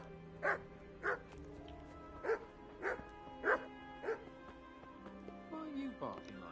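A dog barks repeatedly in the video game Kingdom Come Deliverance, six or seven evenly spaced barks close by over a low ambient hum, ending with a whine, while someone talks in the background.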